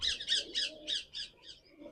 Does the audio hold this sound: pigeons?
yes